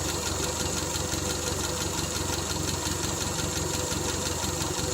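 An old Triumph Spitfire engine idles with a slight misfire after sitting unused for twelve years, a loud, steady, close mechanical drone with faint uneven knocks running throughout.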